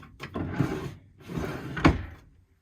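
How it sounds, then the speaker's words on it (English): Pull-out drawers in a tiny home kitchen sliding open, with two rumbling runner slides, each ending in a soft knock, close and quiet with no talking. "And then you got a full bank of pull-out drawers."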